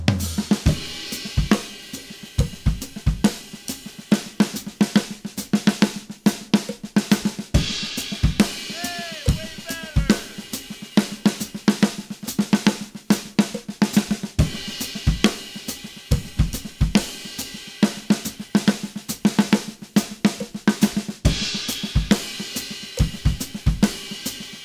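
A drum kit plays a 5-5-5-5-4 triplet fill of single strokes with dynamic accents and crescendos, repeated as a rapid run of sharp hits and cymbal crashes, close and loud, with no voice.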